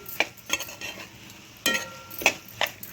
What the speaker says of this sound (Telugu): ఇది ఒక్కసారి ఇలాగా కలిపేసుకోవాలి. మనం కింద నుంచి పైకి, పైనుంచి కిందకి కలిపేసుకోవాలి.